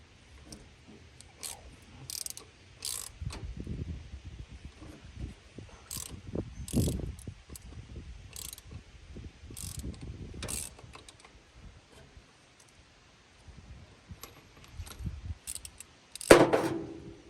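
A wrench with an extension ratchets and clicks while loosening parts on a 1939 International fire truck, intermittent bursts of close mechanical clicking separated by pauses, with a louder clank at the end.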